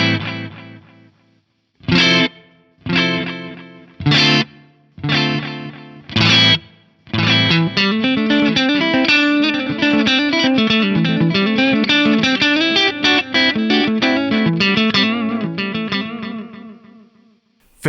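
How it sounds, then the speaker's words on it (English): An electric guitar runs through a Korg Toneworks 301 DL delay pedal. Several short separate strums with gaps between them are followed by a dense, continuous wash of distorted playing and spaced echoes. "So you're going to hear those equally spaced echoes, but they won't be immediately after I play."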